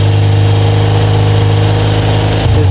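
Engine running at steady RPM during carburetor synchronization, a loud close drone with a strong low hum and even mechanical rumble throughout, with a slight shift near the end.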